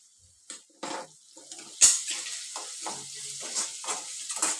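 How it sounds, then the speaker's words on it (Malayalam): Ginger and garlic sauté in a pan for dhal tadka, with a light sizzle and several scraping stirs of a spoon, fairly close and moderately quiet. "ഇതെല്ലാം ഇട്ട് നല്ലപോലെ ഇഞ്ചിയും വെളുത്തുള്ളിയും എല്ലാം നിറം മാറുന്നവരെ വഴറ്റുക"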